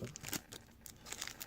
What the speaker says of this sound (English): I want to start opening these cards